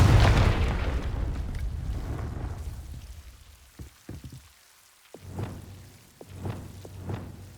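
Confringo blasting spell explosion in Hogwarts Legacy on PS5: a loud booming burst opens and slowly decays, followed by several fainter sharp impacts and crackles.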